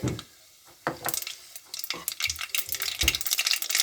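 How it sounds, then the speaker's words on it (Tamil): Mustard seeds splutter in hot oil, popping and crackling in sharp irregular bursts that grow busier toward the end, with a quiet faint hiss between the pops. "கடுகு நல்லா பொரியுது"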